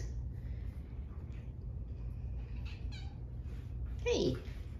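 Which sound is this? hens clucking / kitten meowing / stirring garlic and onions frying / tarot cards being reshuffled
kitten meowing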